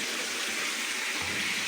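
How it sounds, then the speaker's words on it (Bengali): Water gushes steadily into a pot of curry in a home kitchen, a close, continuous pouring rush lasting the whole moment with no talk. "তেল উঠে যাবে তখনই আমি পানি অ্যাড করব।"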